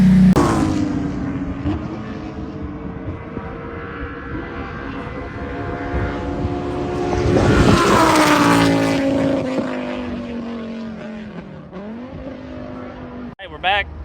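A GLTC Mk2 widebody coupe race car drives on a track, its engine drone rising and falling through gear changes and peaking mid-run, with wind noise and a brief bump near the end; a voice talks over it.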